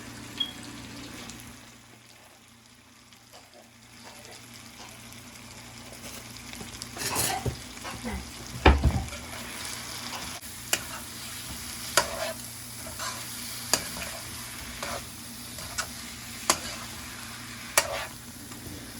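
Chicken masala curry with turmeric, red chili, garam masala and meat masala being stirred in a pan, giving a low steady sizzle under repeated scraping strokes of the spoon, with one heavy clunk midway and no talking.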